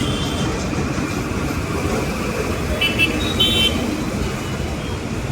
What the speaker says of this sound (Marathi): आज खूप ट्रॅफिक आहे